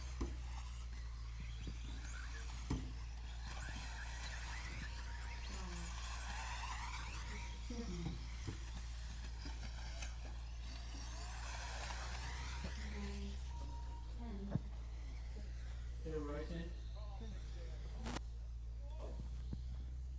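Several 1/10 scale 4WD electric RC cars lapping a race track at a European championship qualifier, high whining motors sweeping up and down as they pass, steady throughout with occasional sharp ticks and a constant low hum beneath.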